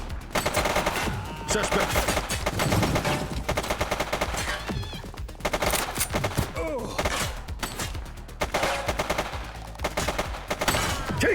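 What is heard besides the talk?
gunfire in the video game The Precinct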